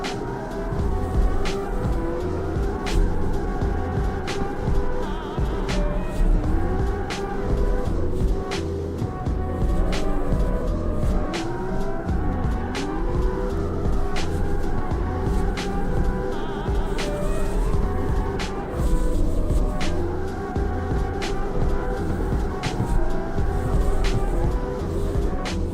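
A loud drift car engine in the video game CarX Street drones and revs continuously, its pitch rising and falling through repeated gear shifts, with sharp regular ticks throughout.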